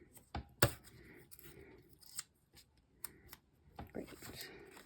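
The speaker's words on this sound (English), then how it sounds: "I'm going to trim that just a little bit more" Scissors trim paper edges for a junk journal page, with sharp, close snips arriving in a loose, irregular rhythm separated by soft rustles of paper.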